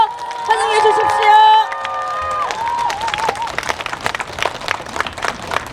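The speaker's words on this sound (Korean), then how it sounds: "여러분 큰 박수로 환영해 주십시오" At an election campaign rally, a crowd claps and cheers to welcome a speaker to the stage. Sustained tonal sounds open the clip, then give way to dense clapping for the last few seconds.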